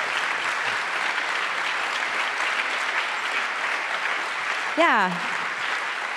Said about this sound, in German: Einen großen Applaus für deine fantastische Arbeit